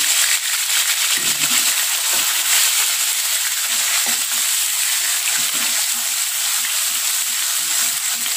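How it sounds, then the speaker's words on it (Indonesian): Blended spice paste sautéing in hot vegetable oil, a loud, steady close sizzle with occasional stirring scrapes and clinks beneath it. "sekarang minyak sayurnya udah panas, lalu kita tumis ini bahan bumbu yang kita blender tadi ya"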